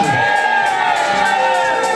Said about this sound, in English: let your amen be louder